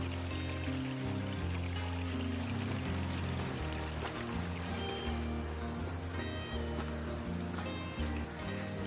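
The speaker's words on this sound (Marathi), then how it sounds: "वाहतं थंड शुद्ध पाणी." Cold, clear stream water flowing steadily along a rain-soaked monsoon trekking trail up Harihar Fort in Maharashtra, a continuous close pouring rush with gurgling tones and no speech.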